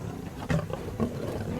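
A lion roars close by on the savanna beside a clan of hyenas, two loud, deep, rumbling bursts over steady background noise, with no talking.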